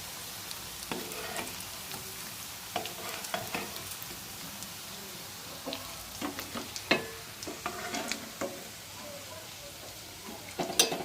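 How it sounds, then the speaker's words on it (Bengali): Fish roe fritters fry in hot oil with a low, quiet sizzle, broken by scattered spatters, ladle clinks and scraping as pieces are turned and lifted out. "বাকি বড়াগুলো ওইভাবেই ভেজে নিচ্ছি।"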